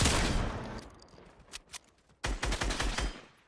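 Rapid automatic gunfire from weapons in the Fortnite video game rings out in dense bursts, a long loud volley at the start, then scattered shots, and another sustained burst after a brief pause.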